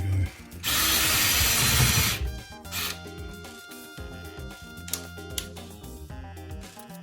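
A cordless power drill with a nearly dead battery whines loudly for a second or two as it bores a hole during bathroom tiling preparation, followed by clattering handling noises and short tool bursts.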